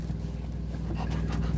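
A dog pants steadily and rapidly at close range indoors under a running air conditioner, with a constant hum underneath and no speech.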